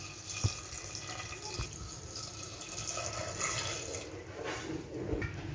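Water is poured into a pot holding tamarind, garlic cloves, curry leaves and a pinch of turmeric for plain sambar, with a steady faint splashing trickle and one soft knock near the start.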